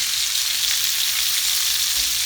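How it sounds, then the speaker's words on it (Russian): Turkey cutlets sizzle steadily in hot oil in a pan, a dense, even frying hiss held close and loud throughout, with no voices. "Чуть-чуть масла добавляем и переворачиваем."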